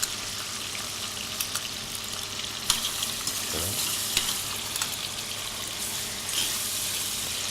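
Pasta sauce with taggiasca olives simmering in a pan, a steady close sizzle and bubbling with occasional light clicks and stirring scrapes, no talk.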